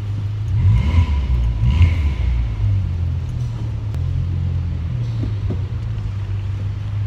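Steady low exhaust rumble from a Volkswagen Polo while driving, loud and continuous with a couple of swells early on, heard from inside the car with no talking.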